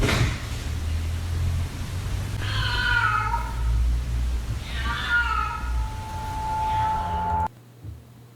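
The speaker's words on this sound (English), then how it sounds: "I think a cat broke into your house." A cat meows inside a house, a few drawn-out, wavering cries repeated at moderate distance over a steady low background hum, which cuts off abruptly near the end.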